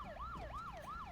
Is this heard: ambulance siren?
yes